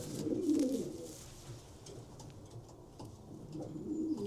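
A racing pigeon hen coos softly up close in a loft, low throaty rolling calls that swell at the start and return near the end, with quieter murmuring between.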